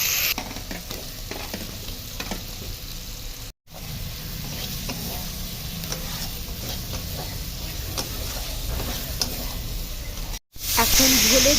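Fried potatoes tossed into a spiced masala of cumin paste, chilli paste and turmeric in a pan, cooked for a Bengali pabda fish and aubergine curry. A steady loud sizzle runs under repeated stirring scrapes, with two brief breaks.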